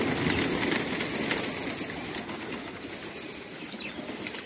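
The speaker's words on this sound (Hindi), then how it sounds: "तो सभी कबूतर बाहर आएंगे।" A flock of pigeons bursts out of an opened coop just after rain, a fluttering rush of flapping wings over steady broadband outdoor noise, fairly uniform with one brief sharper flap.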